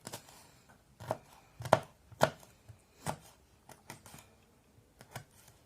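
A knife finely slices a hot pepper on a cutting board for a Turkish minced-meat dish, giving sharp, close taps at an irregular pace, about a dozen over several seconds, with no voices.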